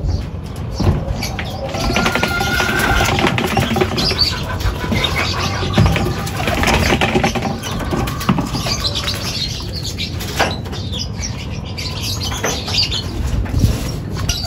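A blue bar racing pigeon drops in at a loft during a mid-distance race, with a flurry of wing flaps and fluttering close by, mixed with scattered chirps and outdoor rustle and no talking.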